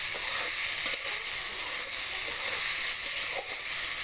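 Vegetables stir-frying with a little salt for chicken fried rice in restaurant style, a steady bright sizzle with soft stirring clatter running without a break, close and fairly loud, with no talking.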